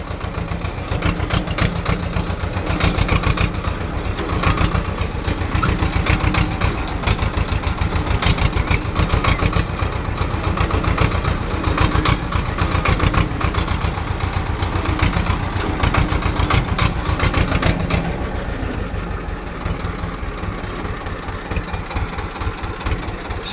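A tractor engine runs close by at a fast, steady idle with a dense rhythmic knock, loud and continuous for the whole stretch. No one speaks.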